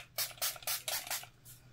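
Milani Make It Last setting spray gives about five quick, breathy hisses in an even rhythm, close and soft, with no talk.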